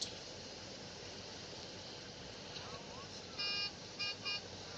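A vehicle horn in a bike driving video game sounds in a few short honks late on, over a constant rushing engine and road noise, with a voice talking underneath.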